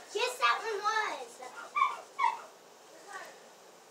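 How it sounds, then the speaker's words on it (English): A dog whimpers and yips excitedly indoors, a run of high whining cries and short barks in the first half trailing off to fainter whines, close to the listener. "My dog's going crazy."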